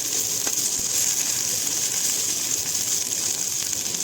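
Ginger garlic paste frying with onion and tomato in a pan, a constant dense sizzle held close and loud throughout, with no talking.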